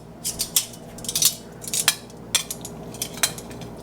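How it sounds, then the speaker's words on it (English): Meatballs set one by one into a saucy pan for sweet and spicy meatballs, giving a series of light clinks, taps and soft scrapes against the cookware, close by and fairly quiet with short pauses between. "And then I'm going to add in my meatballs, meat patties, whatever you want to call them."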